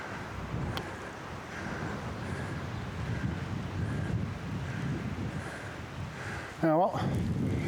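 Wind buffets and roars steadily against the microphone on a hike along the Cleveland Way near Osmotherley, a constant rushing noise with a brief voice near the end.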